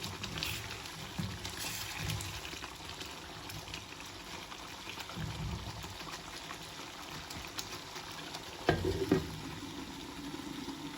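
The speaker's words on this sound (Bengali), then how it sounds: "এই পেস্টটা দিয়ে আমি আরও 5 থেকে 7 মিনিট মাংসটা কষায় নেব।" Chicken pieces frying in spice paste for chicken korma, sizzling steadily in the pan while being stirred, with scraping stir strokes and a louder clatter near the end.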